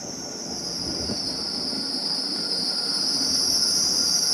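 A train sits at a seaside station in Dawlish with a steady rumble and bright high-pitched wheel or brake squeal holding throughout, growing slightly louder, with no talking.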